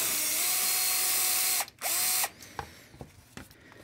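Dewalt drill fitted with a 90 degree angle attachment whirs at high speed for about two seconds, stops briefly, whirs again, then gives way to a few short clicks and clatters.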